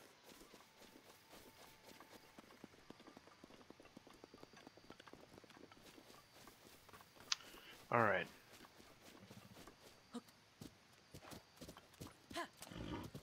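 Horse hooves clip-clopping at a walk in The Legend of Zelda: Breath of the Wild, a steady, faint, regular patter of in-game steps with a brief louder burst midway and a short spoken word.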